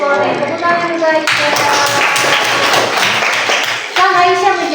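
Schoolchildren in a maths classroom clap together in a brief burst lasting a few seconds, loud and close, with a teacher's voice heard before and after the clapping.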